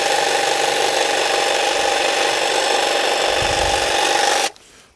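A lightweight battery-powered hedge trimmer cuts steadily through a hedge with a close, continuous whine and buzz that holds for over four seconds, then stops abruptly, leaving faint background.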